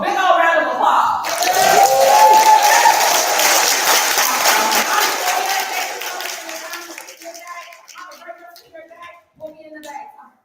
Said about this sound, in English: let's do a big old round of applause